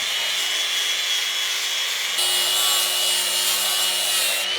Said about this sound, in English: For now, I'm getting back to sanding.